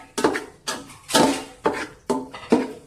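A spoon scrapes and clatters against a pot while stirring masala for homemade ayakkoora (kingfish) biryani, six distinct scraping strokes in a steady rhythm, close and fairly loud, with no talking.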